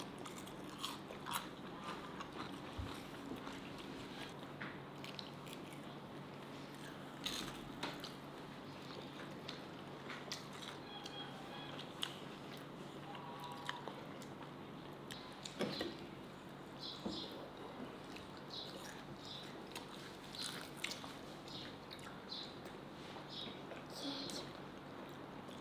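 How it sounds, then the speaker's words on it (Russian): Crunchy homemade chicken nuggets chewed close to the mic, with soft irregular bites and crunches repeating steadily at a low level over faint room noise. "Я надеюсь, вы слышите этот хруст."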